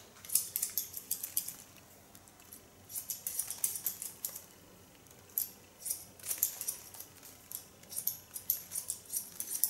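Large thinning shears snip through short hair in quick, irregular bursts of crisp metallic cuts, close and fairly quiet, with brief pauses between clusters and no talking.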